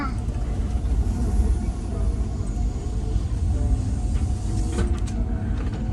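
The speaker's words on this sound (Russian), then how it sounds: "Едем на поезде в Цюрих" A steady low rumble and rattle fills a moving train carriage travelling to Zurich, with faint voices mixed into the constant background noise.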